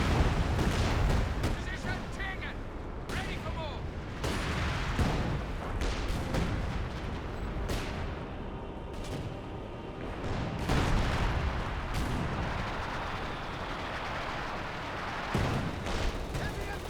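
Mortar and rocket artillery barrages, including white phosphorus rockets from a Land Mattress, boom repeatedly in a Company of Heroes 2 battle with dense overlapping blasts and rumble, while a commentator talks throughout.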